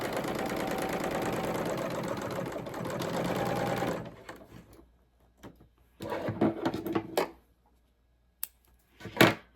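A serger trims a fabric edge with a loud rapid mechanical whir for about four seconds, then stops, followed by softer handling noises and short bursts of stitching.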